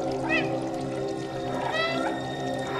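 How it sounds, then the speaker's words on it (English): Two clear cat meows from the video game Stray, one early and one later, heard over low ambient game music and a steady background hum. "Maybe I just meow at it."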